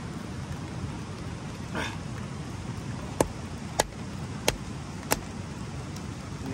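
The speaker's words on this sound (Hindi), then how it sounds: "ये देखो बारिश में तो मुश्किल होगा ना" Steady broadband hiss of heavy rain at a campsite fills the clip, with a few sharp drip-like ticks cutting through near the end; no voices.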